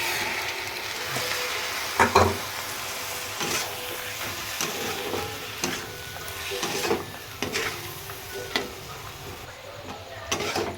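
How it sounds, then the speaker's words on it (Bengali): Lentils (dal) frying and being stirred in a pan, soft continuous sizzle broken by scraping and clinking strokes of a spoon at irregular intervals, close and fairly quiet. "একটু ডালটা এর সাথে একটুখানি ভেজে ভেজে নেব"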